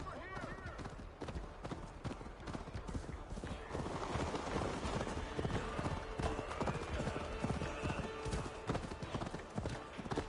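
Horse hooves clip-clop in Assassin's Creed Valhalla, steady and continuous beneath busy game sound and ambience.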